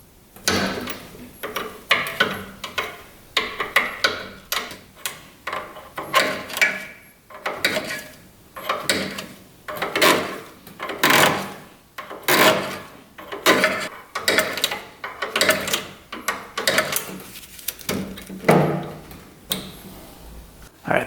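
A throttle cable unscrewed from an old auction-find snowmobile that sat untouched for 40 years, a long series of rhythmic ratcheting and metallic clicking strokes close by.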